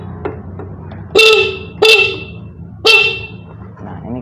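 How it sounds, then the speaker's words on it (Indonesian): A car horn with a worn, failing sound gives three short, weak honks over a low engine rumble, the middle blast briefest and each cutting off quickly. "Ini karena klaksonnya udah soak nih."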